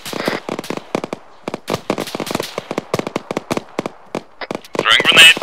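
Gunfire in ArmA 3 on a beach: a rapid string of sharp, loud cracking shots in irregular bursts, with a voice speaking over part of it.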